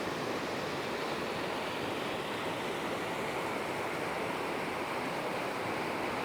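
San Juan Creek rushes down a canyon beside Ortega Highway in a steady, broad roar of flowing water, close and unbroken, with no voices.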